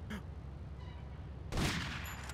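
Gunfire in the Grand Theft Auto: Vice City video game, breaking out as a sudden loud burst of shots in the final second after a quiet stretch with only faint game sounds.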